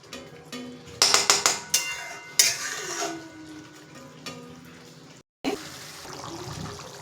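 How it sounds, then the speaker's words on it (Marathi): Water goes into a pan of cashew curry, bringing a burst of sharp metallic clinks and a short liquid splash and sizzle, then a clatter as the lid goes on, followed by a low, muffled simmer. "मला जास्त पाणी नाही टाकायचं, थोडंच टाकायचं आणि झाकून ठेवायचं."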